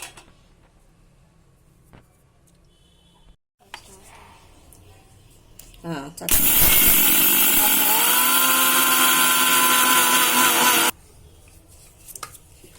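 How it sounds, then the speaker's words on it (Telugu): After some quiet handling noises, a mixer grinder grinding cardamom and wheat flour whirs loudly for about four seconds, then stops abruptly. "ఈ మిక్సీ పట్టేటప్పుడు పౌడర్ మెత్తగా అయింది"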